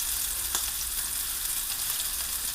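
Meatballs sizzle steadily as they brown in a hot pan, a continuous bright frying hiss close by with a faint click of tongs turning them partway through, no talking.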